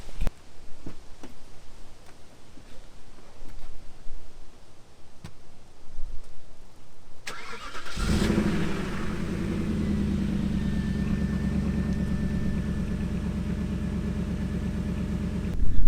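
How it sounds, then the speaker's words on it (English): Cold start of an Audi A8 with a rough-running engine: after several seconds of quiet ticking, the engine fires and settles into a loud, steady, slightly uneven idle rumble that runs to the end. "let me give you guys a cold start because this shit's rough"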